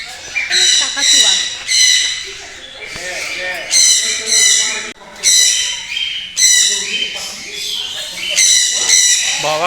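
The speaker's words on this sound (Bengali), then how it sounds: "কাকাতুয়া।" A cockatoo at a zoo gives loud, harsh squawks in repeated bursts about a second apart, close and dominant, with people talking in the background between calls.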